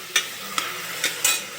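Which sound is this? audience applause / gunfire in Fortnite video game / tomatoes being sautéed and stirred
tomatoes being sautéed and stirred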